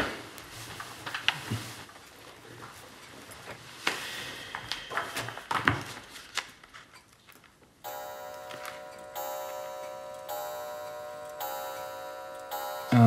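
Sharp clock ticks sound at intervals, followed by a sustained, ringing chime with a steady pulsing rhythm.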